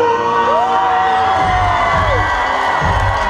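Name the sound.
crowd cheering and applauding a young racer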